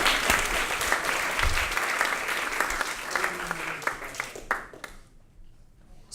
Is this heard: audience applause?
yes